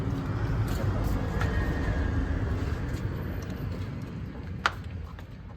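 A car rolls out of a home garage with a continuous low engine and road rumble, steady and fairly close, then fading slightly, with a sharp click or knock near the end.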